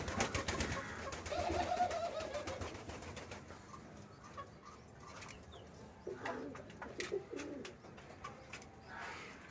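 In a pigeon loft housing two pairs of Harigate males and green females, pigeons coo softly and repeatedly close by, with faint rustling and wing movement in between.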